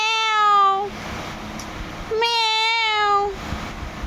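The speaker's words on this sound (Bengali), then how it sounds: "বিল্লি মিয়াও মিয়াও।" A cat meows twice, two long drawn-out, clear and fairly loud calls with a pause between, close by and with no talking.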